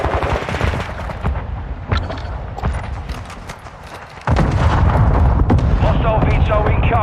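Video game gunfire in Modern Warfare II, sustained machine-gun bursts and rattling shots, quieter at first then jumping suddenly louder and denser midway, with an intense continuous barrage of fire and impacts.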